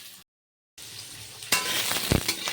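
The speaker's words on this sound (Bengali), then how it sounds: "এদিকে তো ফুলকপিটা ভাজা হচ্ছে" Cauliflower florets fry in a hot pan with a steady sizzle. The sound drops out briefly, then a louder burst of crackling follows, with a stir or clink midway through.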